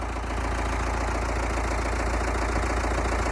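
Small hay tractor carrying weights idles steadily, a loud, close, even engine rumble with a rhythmic knock and no talk over it.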